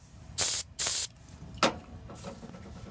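O'Reilly brake parts cleaner sprayed from an aerosol can onto the mating surfaces of an idle air control valve on a 1987 Grand Marquis: two loud, sharp hissing bursts close by, then a shorter, fainter spritz.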